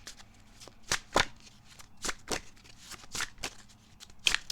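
Tarot cards riffled and shuffled in a quick series of crisp, close flicks and snaps, each burst of papery slaps separated by short pauses before a single card is drawn.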